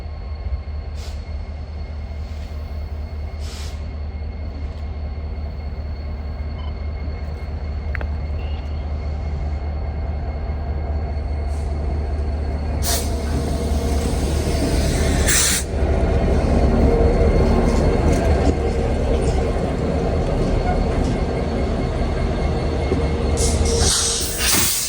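A freight train on the Arkansas & Missouri Railroad climbs a grade up to Winslow behind modern 4,300 horsepower AC traction locomotives, giving a loud, steady low diesel rumble that swells over time, with hissing and occasional sharp metallic bangs.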